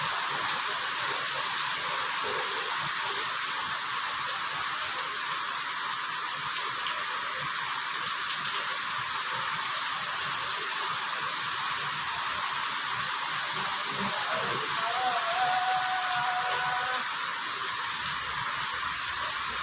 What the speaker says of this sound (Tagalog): Grabe ang ulan talaga, mga idol.